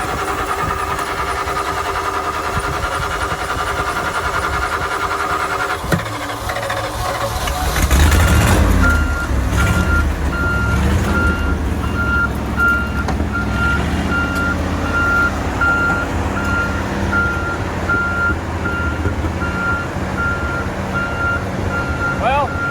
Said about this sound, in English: we try and start it in gear,